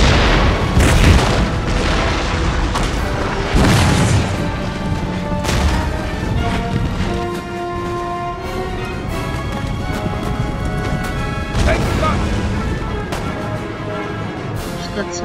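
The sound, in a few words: incoming rockets exploding in video game Napoleon Total War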